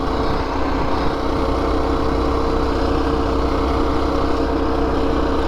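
A small minibike engine buzzes steadily at speed on a road ride toward Harvey, New Brunswick, with a constant loud drone and wind rush and no pauses or talk.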